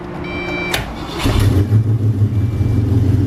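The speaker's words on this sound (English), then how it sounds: "You flip the arm switch, and as you can hear, the fuel pump and everything comes on." A click of an arm switch is followed by a race-converted Foxbody Mustang's fuel pump whirring to life, settling into a steady low electric hum with a faint buzz, close up.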